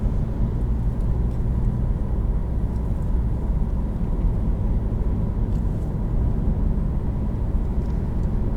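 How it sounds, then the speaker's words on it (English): A 2019 Ford EcoSport with a 6-speed transmission drives along, heard as a steady low engine and road drone inside the cabin with no distinct shift changes standing out. "Nice smooth shifts from that 6-speed."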